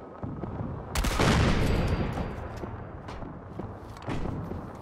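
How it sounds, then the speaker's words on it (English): Artillery cannon weapon firing in Fallout 4: a sharp, heavy blast followed by a rolling rumble and echoing crackle, then a second softer boom near the end. "There's also an artillery cannon weapon that shoots out the same firepower as the Minutemen artillery"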